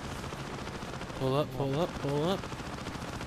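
Aircraft cannon fire in the flight combat video game Wings of Prey, a continuous rapid rattle running throughout beneath a short spoken call.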